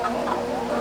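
Female white Delaware chickens cluck softly and continuously at close range on a hot-weather homestead, with a busy, murmuring flock texture throughout the short moment.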